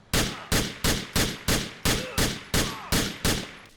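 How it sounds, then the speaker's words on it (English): Pistol shots from the Grand Theft Auto 4 video game: ten loud, punchy gunshots fired in steady succession about every 0.4 seconds, each with a deep thump and a short reverberant tail, with no talking. "and even the pistols got a nice thump and boom to each shot."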